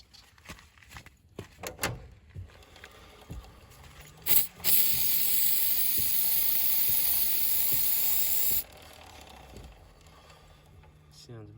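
After some handling clicks and rustles, a can of CRC aerosol lubricant sprays on a Suzuki quad bike in a continuous hiss for about four seconds, then stops abruptly.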